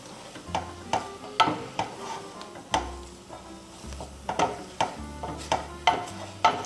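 Choux pastry dough being stirred in a pan, a series of rhythmic scraping, slapping strokes about every half second, close and fairly loud with a faint sizzle beneath.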